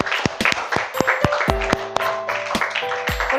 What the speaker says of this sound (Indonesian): Tepuk tangan buat Kristo.